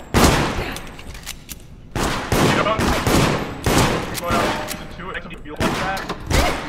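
Repeated bursts of gunfire rattle from a player being shot in the game Deceit, loud volleys separated by short gaps, with people talking over the shooting.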